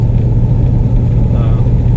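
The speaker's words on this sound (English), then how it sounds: "you can hear the exhaust" A 1973 Mercury Cougar XR7 idles with a steady, low exhaust rumble from an exhaust leak, continuous and close by, with a slightly uneven throb and no clear revving.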